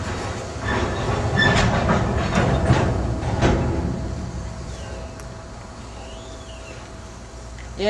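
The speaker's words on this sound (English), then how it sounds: "this sounds like a train that happens about every night at 12" A train rolls past on rails at night, with a continuous low rumble and clacking wheels, fairly near at first and then slowly fading, while voices stay quiet in the background.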